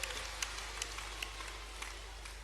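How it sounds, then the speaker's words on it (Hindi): Audience clapping to welcome Madhya Pradesh's Panchayat and Rural Development minister at a large public government event, a steady wash of applause with scattered sharper claps over a low hum, fairly distant and even. "उनके लिए भी तालियां बजाइए, स्वागत कीजिए"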